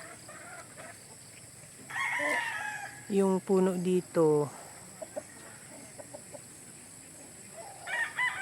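Chickens cluck nearby on a farm and a rooster crows, with a few brief words spoken amid the birds.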